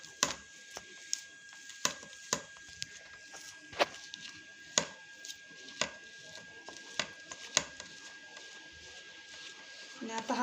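A spoon crumbling khoa for a pumpkin kheer, giving sharp, irregular scraping taps against a bowl, spaced unevenly and fairly close, under a quiet background with a faint steady tone.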